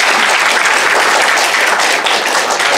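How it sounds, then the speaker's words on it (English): An audience at an academic welcome and introduction session gives loud, dense, continuous applause with no talk over it. "you've clapped already"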